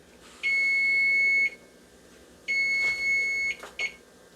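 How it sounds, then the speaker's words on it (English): Two long, loud electronic beeps from an oven timer, each about a second long, separated by a pause, with faint clatter afterward. "Quite enough beeping, in my opinion"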